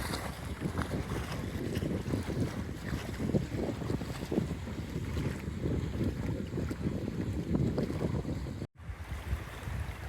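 Wind gusts across open water while canoe sailing near an island, a continuous rushing buffet on the microphone with lapping waves underneath and a brief dropout near the end.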